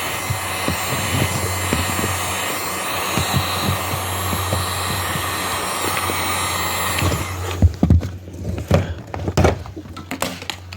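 A heat gun blows a steady, loud whooshing roar while warming sealant on a tile roof, running continuously for about seven seconds before cutting off, followed by scattered knocks and taps from pressing the material down.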